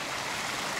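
A mountain stream in the Dolomites of South Tyrol rushes steadily, a dense broadband wash of running water that fills the whole moment, close and even.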